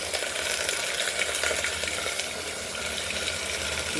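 Washed mung dal goes into a pressure cooker of spices, dried red chillies and cumin frying in oil, giving a continuous, even sizzling hiss at moderate volume with no voices.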